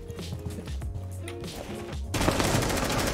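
Gunfire breaks out in Rainbow Six Siege from inside a barricaded room, a dense loud burst arriving suddenly after a stretch of in-game music and ambience.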